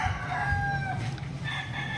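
A large year-old fighting rooster crows close by in long, steady tones, with a second crow following over quiet farmyard background.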